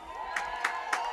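Crowd at a high school varsity football game, Abington versus Cardinal Spellman, applauding a marching band in a steady mid-distance wash with a few brief cheers rising above it, no talk.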